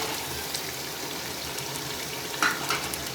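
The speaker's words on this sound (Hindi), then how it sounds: "पाँच मिनट तक इसे अच्छी तरह भूनते हैं।" Roasted mutton frying in masala for lobia gosht, a steady close sizzle with faint stirring scrapes and a brief louder clatter near the end.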